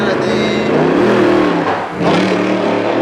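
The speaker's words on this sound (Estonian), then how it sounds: "Mootor käib ilusti. Hääl on hea." A race car engine revs loudly up close at a drag racing event, pitch rising and falling with a brief dip before building again; a voice talks over it.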